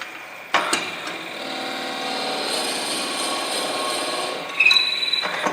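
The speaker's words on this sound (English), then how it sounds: "I don't want to drill in there any further than just meeting the edge." A power drill bores into a stabilized wood and Fordite ring blank, holding a steady whining, buzzing tone for several seconds, starting with a sharp bite and ending with a clattering stop.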